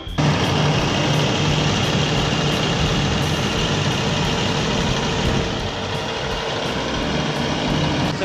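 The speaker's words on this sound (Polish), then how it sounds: "I jak ci się podoba ta fajny ciągnik? Głośny chyba, co?" A Kirow tractor engine runs loud and steady out in a farm field, a continuous heavy drone with no break in its roar.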